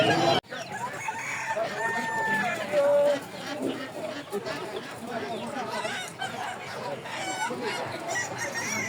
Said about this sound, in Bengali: দেখতেই পাচ্ছেন প্রচুর হাঁস মুরগির কালেকশন পাওয়া যায় এখানে